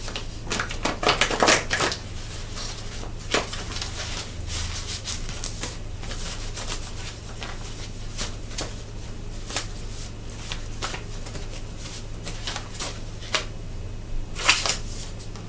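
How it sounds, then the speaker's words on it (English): Oracle cards being shuffled and pulled from a deck, a series of crisp riffling and flicking bursts scattered irregularly over a low steady hum, close and fairly quiet with no talking. "So I'm gonna pull 8 more cards just in general."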